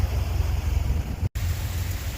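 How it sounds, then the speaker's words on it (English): Hail pounding down heard from shelter beneath a road, a dense, loud, continuous rushing clatter with a strong low rumble and echo, briefly cut by a split-second dropout. "We've got sunshine and hail."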